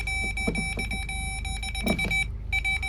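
A continuous high-pitched electronic beep from a power probe sounds steadily while testing a Ford Transit Connect parking sensor fault, cutting out briefly near the end before resuming, with faint clicks and handling noises underneath.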